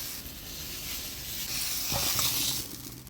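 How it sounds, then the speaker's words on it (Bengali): Pointed gourd (potol) fries in hot oil, a steady close sizzle that briefly swells louder as the pieces are stirred, with no talking. "পটলটা ভেজে নিলাম, এবার নামিয়ে নিব।"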